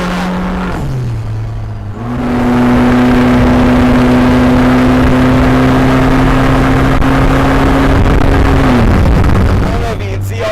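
A 2019 Vanderhall three-wheeled roadster accelerating hard, its engine note climbing after a brief gear change and then holding a loud, sustained high drone for several seconds before easing off, close and with wind buffeting.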